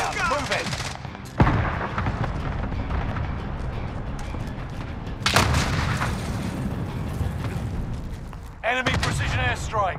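Rapid automatic gunfire and heavy booms crackle in a Call of Duty: Modern Warfare battle, with loud bursts near the start, middle and end. Dense rattling shots sit over a rumbling combat bed, and game voice lines cut in between.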